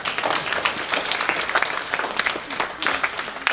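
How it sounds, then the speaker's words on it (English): Students at a Year 7 school assembly applauding, a dense steady clatter of many hands filling a hall, loud and sustained throughout. "can we give ourselves a massive round of applause?"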